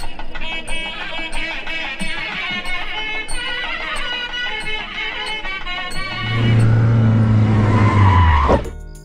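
A car in an action fight scene from a South Indian film pulls away with a loud, rising tire squeal, heard over busy background noise and clatter, then cuts off abruptly.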